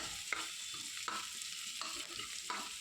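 Vegetables sizzle faintly in a pan while a spatula stirs them in four evenly spaced scrapes over a steady, quiet frying hiss, with no one speaking.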